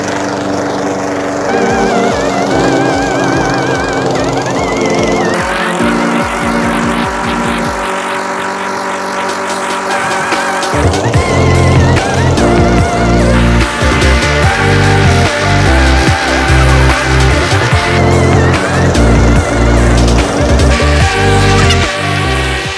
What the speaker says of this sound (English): We're going to do a little bit of mowing.